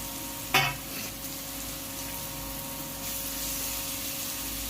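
Ginger garlic paste sautés in a pan for egg curry, giving a steady, moderate sizzle; a sharp spatter-burst near the start gives way to a continuous frying hiss with light stirring.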